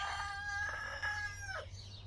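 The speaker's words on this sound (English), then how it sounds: "The rooster confirmed." A rooster crows once, a clear, loud drawn-out call that ends in a falling note, over a steady low background hum.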